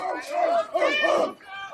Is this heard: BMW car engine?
no